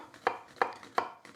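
A knife finely chops onions on a board in four crisp, evenly spaced taps, close and quiet, with no voices.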